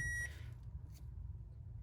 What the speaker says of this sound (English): Our beeping noise is back.